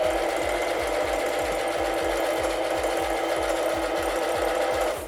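A Singer Facilita Pro 4423 sewing machine runs steadily on a straight stitch, its needle clattering in a fast even rhythm with a constant motor whir, close and loud, stopping at the end.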